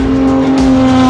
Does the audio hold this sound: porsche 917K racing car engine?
yes